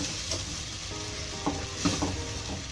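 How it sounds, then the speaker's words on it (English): Chicken curry being stirred and fried with natural yogurt and tomatoes in a pot, a steady soft sizzle with a few scraping stir strokes, close and alone. "make sure that you mix everything well"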